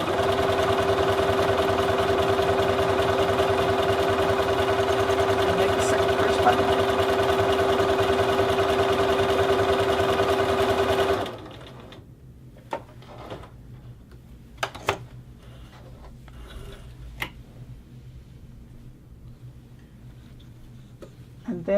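A sewing machine stitches a buttonhole in hoodie fabric, running loud and steady for about eleven seconds before stopping abruptly, followed by faint ticks and small handling clicks.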